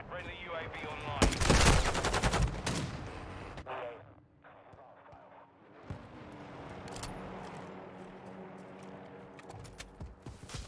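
Rapid gunfire in Call of Duty: Modern Warfare II, a loud fast burst of shots followed by quieter scattered firing and explosions under a low game rumble.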